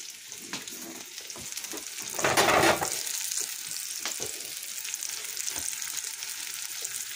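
Onion and green chile pepper fry in hot oil in a pan, a steady close sizzle that swells into a loud hissing burst before settling back to a crackling fry.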